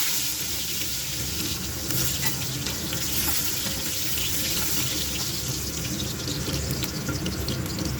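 Potatoes frying in hot oil in a home kitchen give a steady, dense sizzle with a constant hiss and no pauses, fairly close and even in loudness throughout.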